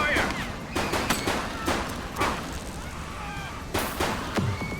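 Repeated bursts of gunfire ring out during a police shootout in the video game The Precinct, sharp shots cracking at irregular intervals amid radio chatter and shouted voices.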